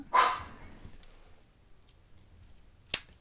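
One sharp bark bursts out at the start, then fades into near silence broken by a few faint ticks and a crisp click toward the end.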